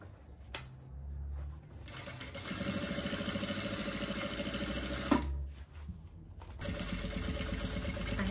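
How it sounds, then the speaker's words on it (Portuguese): A domestic sewing machine runs a steady stitching seam around the edge of fabric for a diaper holder, its rapid even motor whir continuing close by with a brief pause and restart. "agora eu vou passar uma costura aqui toda a volta"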